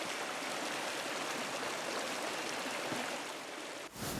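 Steady broadband rush of a waterfall in the video game Pentiment, a dense continuous roar of falling water with no voices, cutting off abruptly near the end.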